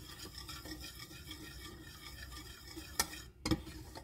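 Gelatin from a single sachet being stirred into a mixture for a bread-based cake, a steady soft scraping swirl with a couple of sharper clinks near the end, close and fairly quiet.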